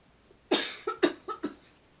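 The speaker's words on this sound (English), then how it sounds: "I don't know why I'm coughing." A person making pink sugar soap with lye coughs in a quick series of about five close, sharp, rasping bursts, with silence before and after.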